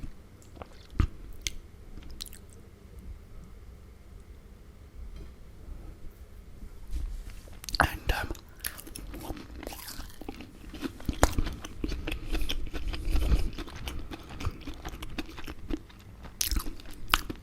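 Chicken parmesan being bitten and chewed close to the mic, with soft crunches and wet squishy chewing sounds that come in irregular bursts, quiet at first and then busier, with no talking.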